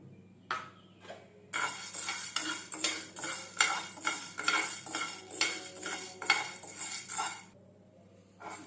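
Dry chana dal being stirred and roasted in a metal pan for idli powder, with repeated scraping clinks of a spoon against the pan in a steady rhythm. The sound is close and moderately loud, with no voices.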